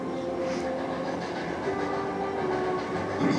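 A steam-powered train runs along a Colorado mountain railroad. A continuous mechanical rumble and rattle of the cars on the rails carries steady tonal hums, heard fairly close and with no voices.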